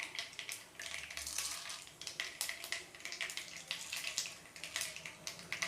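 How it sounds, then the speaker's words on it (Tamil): Mustard seeds splutter and pop in hot oil in a pan as the tempering for poha upma cooks, a dense, faint crackle of rapid bursts with no talking. "கடுகு பொரியட்டும்."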